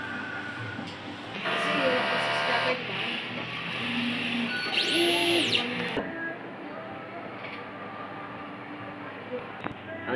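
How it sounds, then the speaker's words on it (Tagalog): An inkjet printer runs a nozzle check, with a steady mechanical whirring and a rising-then-falling carriage tone under quiet voices talking nearby. "Nozzle check."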